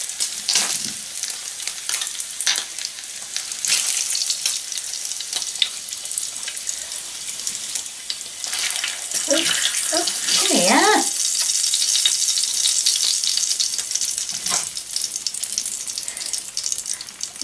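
Bacon sizzles loudly in a hot pan greased with melted lard, a continuous bright crackle with occasional spits and a short burst of handling noise midway.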